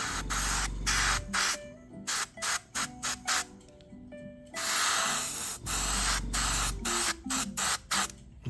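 Model kit parts for an Academy 1/48 A-1C are spray painted in short airbrush-style bursts, a close steady hiss that starts and stops in several quick pulses, with two longer sustained sprays and a faint background hum.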